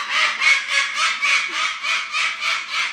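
A bird gives a steady run of harsh, honking calls, about eight evenly spaced bursts in three seconds, close and fairly loud with no talking over it.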